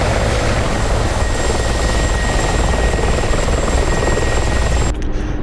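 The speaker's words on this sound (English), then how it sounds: "right now we're in an Mi-24P, so that's a big fat hind." An Mi-24P Hind helicopter flies in a Syria combat flight simulator game, its loud, dense rotor and engine roar steady and close throughout before cutting off sharply at the end.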